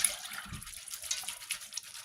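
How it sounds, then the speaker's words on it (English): Water poured over field corn in a container to rinse off the hulls, a soft steady splashing trickle heard close and fairly quiet, alone. "I'll pour some water in."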